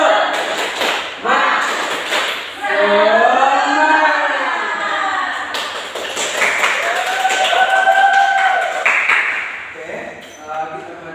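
A fifth-grade class in a social studies lesson does the rhythmic 'tepuk semangat' spirit clap, with sharp patterned claps mixed with children's chanting voices, loud and close.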